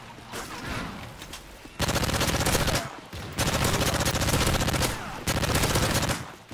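Rapid automatic gunfire from a first-person shooter video game, loud bursts lasting a second or two each, separated by short gaps, with brief game sounds between.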